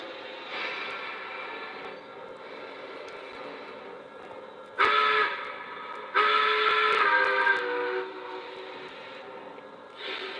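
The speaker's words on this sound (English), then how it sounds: "Same whistle, but it's a great one" An O scale model K4 steam locomotive, the Tuscan K4 numbered 1361, sounds its electronic whistle in two loud, clear blasts over a steady background hum of the running model train.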